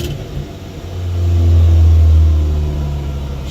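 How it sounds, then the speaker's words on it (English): A Ford Puma race car engine idles high and hard, a loud continuous rumble that swells to a peak in the middle and then eases slightly, with no voices. "She goes, she's idling very hard."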